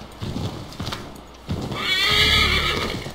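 A few hoof clip-clops, then a horse in Assassin's Creed III neighs loudly in a long, shrill whinny over a low rumble.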